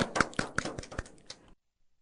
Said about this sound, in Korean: 박수를 다 같이 칠까요?